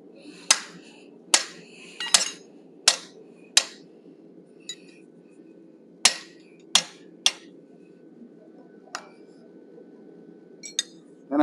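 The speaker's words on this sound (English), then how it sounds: "Then I'm going to a little narrower triangular shaped punch. And as I drive this one" A hammer drives a narrow triangular punch into forged steel, shaping a wolf head: sharp, ringing metallic strikes in irregular groups, close and clear, with quiet gaps between the blows.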